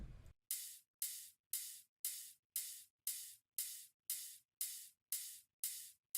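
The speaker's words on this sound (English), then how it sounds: "we have this open hi-hat sound," An amapiano open hi-hat strikes about twice a second in an even pulse, each hit ringing with a bright, hissy wash before the next.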